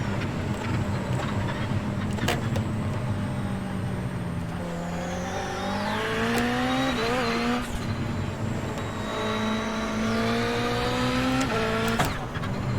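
Race car in the iRacing sim racing game: a loud, continuous engine drone rising and falling through gear changes, with upshift and downshift sweeps, faint tire noise and someone talking over it.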